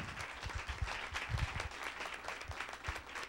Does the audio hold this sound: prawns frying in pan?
no